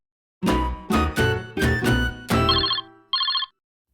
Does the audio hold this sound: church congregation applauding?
no